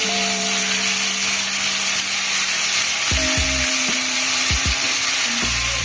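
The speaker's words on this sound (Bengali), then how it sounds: "এইবার কোপ্তার জন্য দিয়ে দিচ্ছি সোয়াবিনগুলো ভাজা হবে" Soybean kofta balls frying in hot oil, a steady broadband sizzle throughout with a few clunking stirs or utensil knocks in the latter half.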